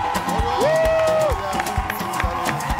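A studio crowd cheers and claps for an artist on a French-language show, a lively mix of whoops and clapping under strong tonal music and a presenter's voice.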